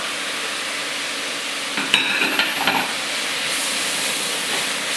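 Mushrooms sizzle steadily in a pan for a vegetable lasagna, a soft continuous hiss broken midway by a few clinks and scrapes of stirring.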